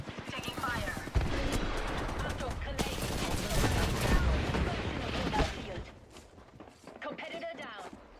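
Rapid gunfire rattles in Apex Legends, sustained bursts of automatic shots with footsteps, then quieter scattered shots, while a player talks over the action.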